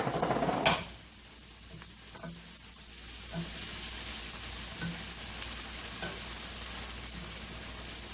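Green beans fry in a pan with a brief loud splash as tomato purée goes in, then a steady close sizzle continues with occasional soft clinks of a utensil.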